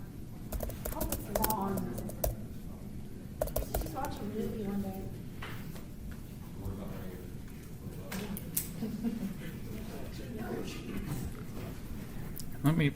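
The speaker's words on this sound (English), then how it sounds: "Sorry, let me attach my keyboard here." Typing on a computer keyboard, irregular bursts of close clicking keystrokes scattered through the stretch while someone talks over them.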